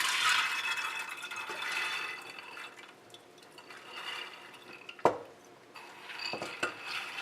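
Soaked mung beans tipped into a pressure cooker with light metallic clinks and wet, rattling pours, then a sharp single clank of utensil on pot followed by a few softer knocks.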